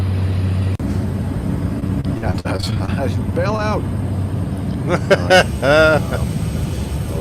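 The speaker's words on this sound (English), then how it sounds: "That engine sounds a bit ropey." A light aircraft landing on a glacier near Denali drones steadily throughout, its engine running roughly, while people talk over it close by.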